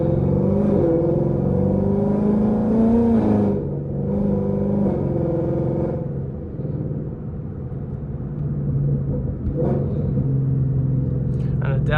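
A Ford Mustang GT with a 5.0 V8 engine revs while driving, its deep rumbling note rising and falling through several throttle swells, close and loud, with occasional talk over it.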